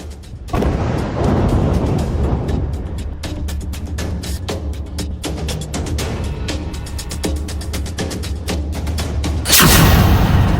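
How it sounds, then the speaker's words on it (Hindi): A volcanic eruption gives a deep, sustained rumbling roar with a dense crackle of sharp bursts throughout, building to a louder blast near the end. "जोरदार धमाका और ज्वालामुखी फट गया।"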